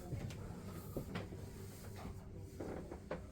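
Rattling handle and knocking of an old wooden door being tried and found locked in a historic inn, a few faint clunks and rattles in a quiet room with no talking.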